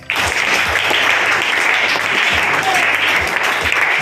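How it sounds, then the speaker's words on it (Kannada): A class of students applauding, with steady, dense clapping throughout that sounds loud and close, with no pauses. "ಚಪ್ಪಾಳೆ"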